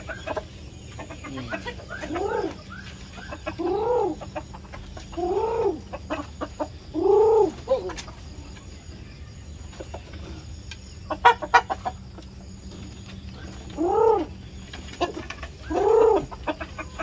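Rhode Island Red hens cluck repeatedly in short rhythmic bursts, fairly close, over a steady low background hum, with quieter pauses between the calls.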